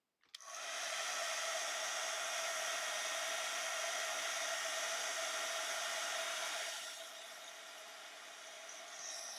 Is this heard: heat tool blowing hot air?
yes